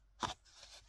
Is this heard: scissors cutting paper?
yes